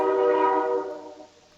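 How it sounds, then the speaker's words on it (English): Distant train horn, a single sustained tonal blast with rich harmonics that fades away over a second and a half, heard alone. "I heard a train."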